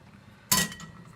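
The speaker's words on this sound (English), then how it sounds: "I'm just gonna scrape off the worst of it" A single short metal scrape or clink as leftover omelette is scraped from a small carbon steel pan, a brief bright burst standing alone in a quiet kitchen.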